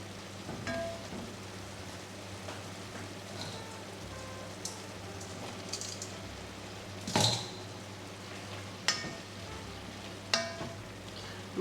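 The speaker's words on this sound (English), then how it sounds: "now I'm gonna add in my black beans to this. The beef should be cooked by now" Black beans tipped into cooked ground beef frying in a pan, a steady close sizzle with a low hum beneath and a few sharp clacks of utensils against the pan.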